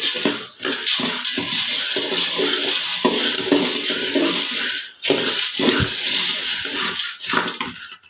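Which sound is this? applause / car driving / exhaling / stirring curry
stirring curry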